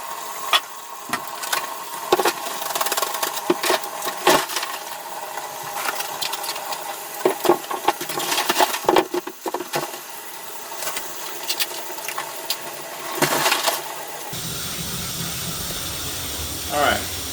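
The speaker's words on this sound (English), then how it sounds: "Super loud, but let's put the ice in." Ice goes into an ice bath for injury recovery: a clatter of sharp, scattered knocks and splashes over a loud, steady hissing machine roar, with a brief talking voice nearby, then a smoother wash of noise at the end.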